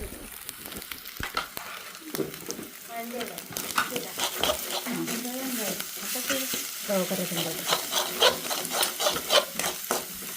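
A spoon stirs and scrapes ingredients in a cooking pot with a soft gritty sizzle, a continuous rubbing and scraping texture under steady talk.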